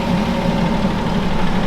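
Massey Ferguson 6290 tractor running with its PTO engaged, a steady, loud low-pitched engine drone held continuously without breaks.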